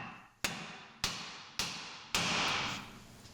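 Four sharp taps on an aluminum wheel knuckle during wheel bearing replacement, spaced roughly half a second apart, each a crisp hit with a short ring, the last one sustaining a little longer.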